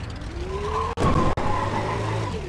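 Cars drag racing in the video game Brick Rigs: a revving engine whine rises steadily in pitch, broken by two brief gear-shift cutouts, with a skidding edge and no voices.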